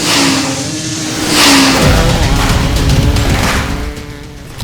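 An Ola S1 Pro Plus electric scooter revs loudly and close, the pitch climbing and holding in a sustained roar before easing slightly.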